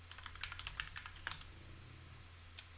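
Rapid keystrokes on a computer keyboard during a League of Legends esports group-stage broadcast, a quick burst of clicking taps close by, then a pause and one last isolated key hit, with no voices.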